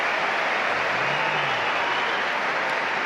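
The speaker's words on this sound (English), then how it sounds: "And even Mom applauds" Steady, dense applause from the Wimbledon crowd after a point in Rafael Nadal versus Donald Young, including the player's mother, a broad even roar of clapping throughout with a brief low voice underneath.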